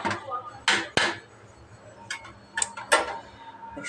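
A lid placed on a pot of beef curry, a few sharp metallic clanks and knocks spaced irregularly, close by, with faint background noise between them.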